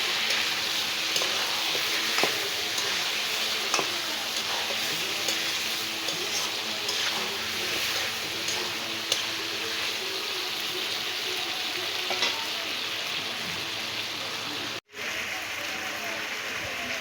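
Goat meat sizzles steadily as it is fried and stirred in a pan, with a continuous hiss broken by occasional scraping clicks from the stirring, close and fairly loud throughout.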